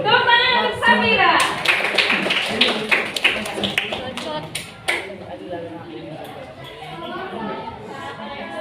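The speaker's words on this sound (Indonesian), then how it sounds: "Tepuk tangan untuk Samira." A small group in a classroom claps for a presenting student, with scattered, uneven hand claps close by that thin out after a few seconds, and people chatter and talk over the clapping throughout.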